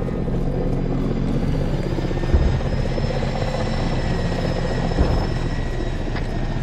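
A helicopter in a military co-op shooter game drones steadily throughout, a loud continuous rotor and engine rumble that stays close and even with a couple of brief thumps.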